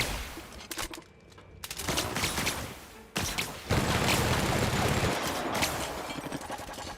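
Gunfire in the video game The Outer Worlds: loud bursts of rapid automatic fire and heavy shots, broken by a brief pause, then a dense, sustained barrage with booming impacts.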